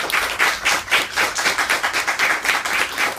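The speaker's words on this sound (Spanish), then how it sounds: "Un aplauso." An audience at a philosophy and architecture lecture claps together, a dense, steady patter of hands that stays fairly loud and even for a few seconds with no voices over it.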